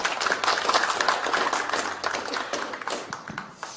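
An indoor audience at a political party's economic advisory team launch claps in a dense, crackling burst that holds steady before thinning out at the end.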